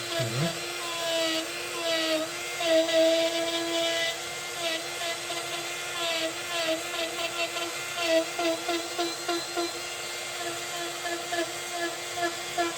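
A small power sanding tool working over a handmade build, a steady high whine with shifting pitch and short bursts of grinding contact, close by and moderately loud, with faint talk at times.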